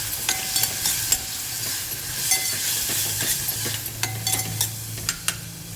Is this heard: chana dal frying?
yes